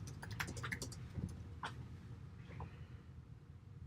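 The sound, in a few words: typing on a computer keyboard to write an assignment submission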